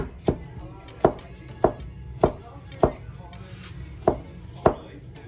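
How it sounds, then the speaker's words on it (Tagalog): A kitchen knife chops vegetables on a board in a home kitchen, with seven or so sharp, evenly spaced strokes about a half second apart and quiet room noise between them. "hinihiwa na natin yung mga ingredients"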